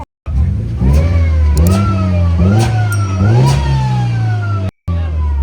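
A car engine revs hard three or four times in rising, roaring surges, close and loud, settling back between each burst.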